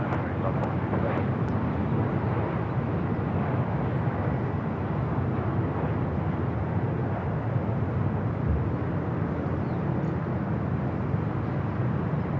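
A jet taking off from runway 24 left at LAX, a broad steady engine roar with deep low rumble sustained throughout, heard from a distance and without talking.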